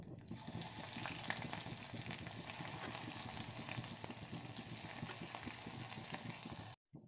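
Cumin seeds, broken red chili and garlic sizzle steadily in hot oil for a restaurant-style dal tadka, a dense continuous crackle that stops abruptly just before the end.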